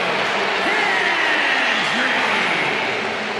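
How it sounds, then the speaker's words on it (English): A wrestling arena crowd in WWE 2K26 roars and cheers for a wrestler's entrance, a dense, loud, sustained wall of noise with scattered whoops. "The crowd becomes unglued every time this man makes an appearance."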